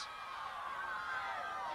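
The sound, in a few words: Chula Vista crowd noise at a boys' soccer match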